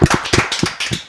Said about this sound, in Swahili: makofi ya The Mwangis